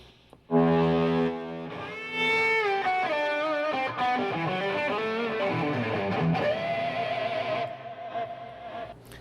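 An electric guitar plays a singing lead line of bent and sliding notes with sustained distortion, loud and upfront, ending on a held note.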